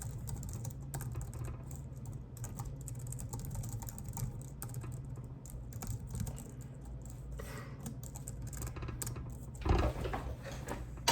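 Steady, rapid typing on a computer keyboard continues throughout, with close, irregular key clicks and a slightly louder burst of keystrokes near the end.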